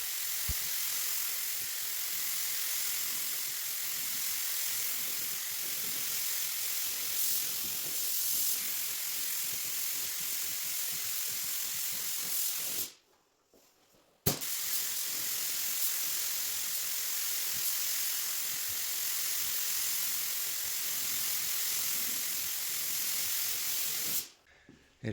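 A paint spray gun lays down Galactic Blue and Geisha Doll paint over a test panel with white and black base coats, a loud continuous hiss broken by two brief pauses.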